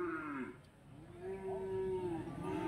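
Cattle at a livestock market in Rogojampi, Banyuwangi, give long drawn-out moos, one low call followed by another rising and falling, moderately loud over crowd murmur, without clear talk.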